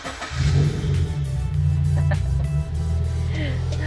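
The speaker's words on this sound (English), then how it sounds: "Let's start the engine." A Toyota 86 engine cranks and fires, then blips and settles into a loud, low rumbling idle that steadies and fades a little toward the end, heard from close by.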